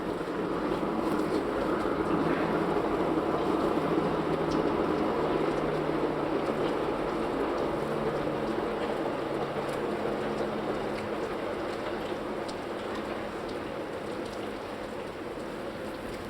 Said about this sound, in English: There seems to be a lot of trains today.